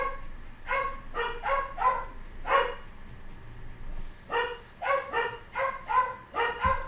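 Puppies bark in quick bursts of high, yappy yips, several in a row, a short pause, then another run of rapid barks, fairly close, with no talking.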